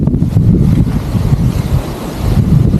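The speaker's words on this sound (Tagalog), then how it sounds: "Hanggang ngayon malakas pa rin po yung hangin." Strong typhoon wind in Pangasinan, Philippines, gusts, roars and buffets the microphone without pause, a heavy, rumbling rush with no voices.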